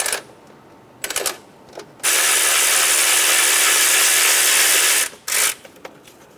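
Ratchet turning a 10mm socket on a fuel line bracket bolt of a 2005-2015 Toyota Tacoma 2.7L engine, with a few short clicks followed by one sustained three-second run, close and loud.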